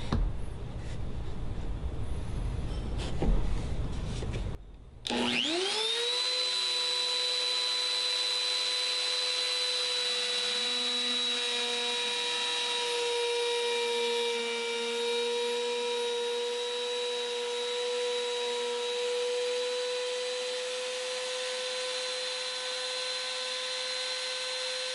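A router trims the wood of a Dean Les Paul copy guitar headstock during a repair, with a steady high whine sustained for about twenty seconds after a brief pause and start-up, loud and close with no talk.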